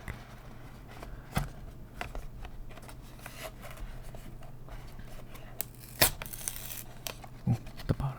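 A Magic: The Gathering Double Masters draft pack is torn open in close, quiet detail: crinkling foil wrapper, brief ripping bursts and soft handling sounds, with no talking.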